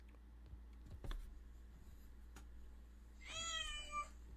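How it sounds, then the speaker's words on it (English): A single cat meows once, short and drawn out, near the end. Before it come a few faint clicks and taps over a low, steady hum. "Oh, that's a big cat."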